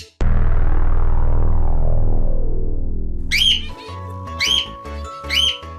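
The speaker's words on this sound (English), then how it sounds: "Quaker parrot." A Quaker parrot calls in two or three sharp, rising squawky whistles that come close together and sound near and loud. Before the calls, a long resonant chime-like tone fades out slowly, and a steady musical backing tone plays under the calls.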